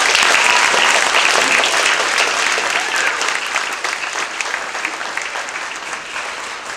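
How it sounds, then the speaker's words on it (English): Audience applause after a difficult piece played by a student band at a school concert, sustained clapping from a large crowd that slowly fades. "give them another round of applause on that"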